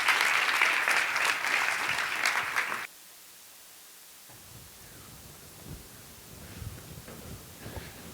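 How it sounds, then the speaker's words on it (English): Audience applauding a speaker being introduced at a talk on good choices, storytelling and the collaborative economy; dense, loud clapping for nearly three seconds, then a sudden cut to quiet room tone with faint rustles. "Let's give him a round of applause."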